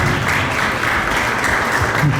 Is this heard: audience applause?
yes